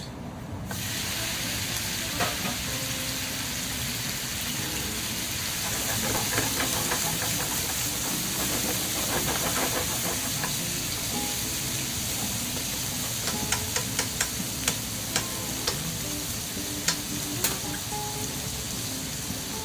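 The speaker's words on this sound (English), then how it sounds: "Time to start saute. Pork meat." Pork frying in a pan with garlic already browned, for yakisoba: a steady, dense sizzle with scattered crackles and pops that grow sharper near the end, no voices.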